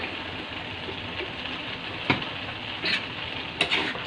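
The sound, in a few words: stirring bean sprouts and soy sauce in a pan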